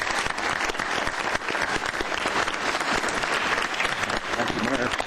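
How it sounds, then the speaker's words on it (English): People at a city council meeting applaud a retiring city attorney, a loud, dense, sustained round of clapping with crowd murmur and some voices mixed in. "let's just give him a good round of applause for what he's done here for our city"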